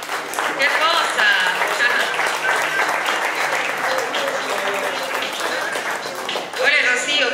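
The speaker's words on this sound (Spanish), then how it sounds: "Un fuerte aplauso para ella" Loud, sustained audience applause fills an awards-ceremony hall for Lucía Rosalí Brunetti, dense clapping continuing steadily throughout with a brief swell near the end.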